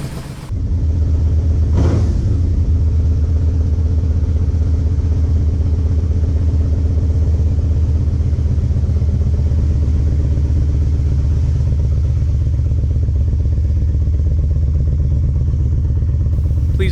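Damaged Yamaha Vmax motorcycle rolling slowly across grass on a test ride, its engine a loud, steady low rumble held close throughout, with a brief clatter near the start.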